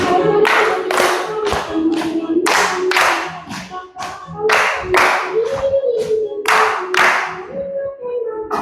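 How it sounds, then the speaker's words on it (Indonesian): A classroom group claps in bursts of rhythmic rounds, the hands loud and close, while voices chant along in a sing-song pattern between and under the claps. "Betul, tepuk tangan."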